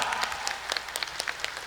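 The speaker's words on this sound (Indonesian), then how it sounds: "Boleh tepuk tangannya sekali lagi?" Audience applause at a hospital anniversary celebration, a moderately distant crowd clapping steadily in a dense patter of claps for under two seconds.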